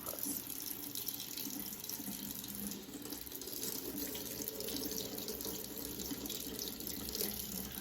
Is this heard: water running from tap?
yes